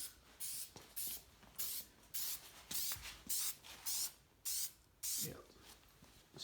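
Red filter oil hisses from an aerosol can onto an air filter for a 2000 Mustang GT in a series of about eleven short, even bursts with quiet gaps between them, close and fairly faint.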